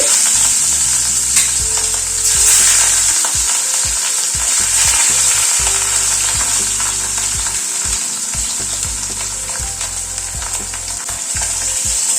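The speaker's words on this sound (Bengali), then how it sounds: "মাছটা ছেড়ে দিচ্ছি।" Fish pieces hiss and sputter as they fry in hot mustard oil in a wok on a gas stove, a loud, steady close-up sizzle with crackling pops, no voices.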